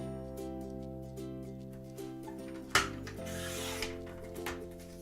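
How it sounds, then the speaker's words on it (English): A paper trimmer cuts stray bits of paper while decorating a 2018 monthly planner: one sharp snap of the blade, then a short scraping slide, heard close over steady background music. "we're going to grab that paper trimmer again. Just going to trim off all the other bits that can be used."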